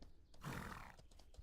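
A video game horse neighs once in a short, faint whinny, standing alone with no speech over it.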